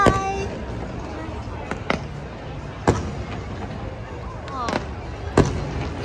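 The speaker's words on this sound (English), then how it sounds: "Because we want to see you watching fireworks." Fireworks display at Darling Harbour: several sharp, loud bursts a second or more apart, with a crackling tail after some, under steady crowd murmur and nearby voices.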